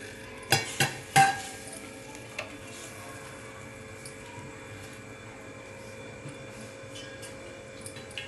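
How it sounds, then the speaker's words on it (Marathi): A bhakri flatbread on a hot griddle, spread with water on top: a few sharp scraping clicks at the start, then a steady low sizzle with no talk. "आता तव्यावर टाकले, त्याला वरून पाणी लावून घ्यायचं."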